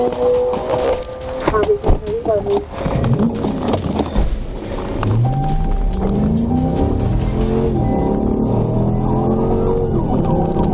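Police car siren wailing during a high-speed night chase on a highway, loud and close, with engine and road noise and voices early on, then clear rising and falling siren sweeps that dominate the second half.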